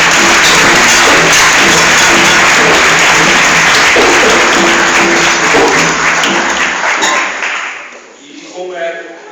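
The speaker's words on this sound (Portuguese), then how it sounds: "Então eu gostaria de pedir uma salva de palmas a esse grande..." Loud, dense audience applause at a Candomblé cultural event in São Paulo, continuous clapping with rhythmic percussive accents that fades out near the end as voices emerge.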